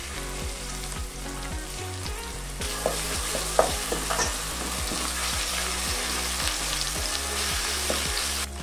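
Onions, curry leaves and ginger garlic paste sizzle steadily in a pan for pepper chicken masala, with a continuous close fry and repeated stirring scrapes in a regular rhythm, no voices.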